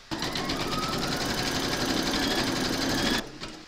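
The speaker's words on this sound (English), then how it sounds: "Pop your hoop into your machine and stitch round number 1, and that's going to give you a placement outline for your batting." Embroidery machine stitching the first placement outline for a skeleton appliqué, a fast, even mechanical chatter with steady needle rhythm up close, running continuously for about three seconds before stopping.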